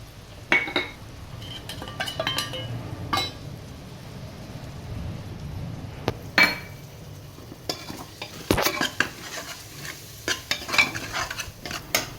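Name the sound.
sautéing and stirring ginger paste and coriander leaves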